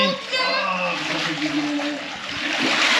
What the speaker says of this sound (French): là on a une jolie cascade d'eau qui peut se mettre en route